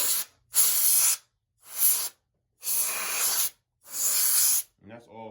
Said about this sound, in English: I'm just gonna give it a quick spray here.